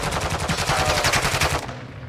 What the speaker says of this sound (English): The shotgun is actually so gross.